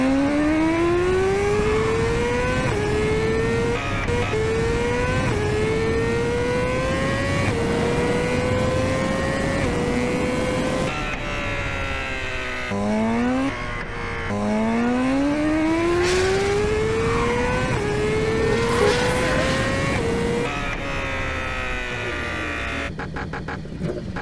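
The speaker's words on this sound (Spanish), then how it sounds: "la moto tiene demasiada fuerza." A BMW S1000RR sport motorcycle accelerates hard through several gears, its engine note climbing in pitch, dropping at each shift, then rising again, loud and close throughout.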